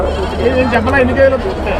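Goats bleat close by, several overlapping cries in a brief burst amid a noisy crowd at a sheep and goat market in Nallapadu.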